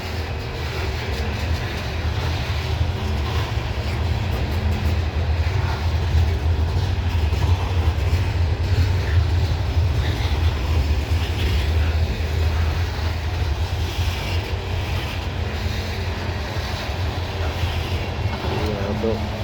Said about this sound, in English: See the end of the train down yonder.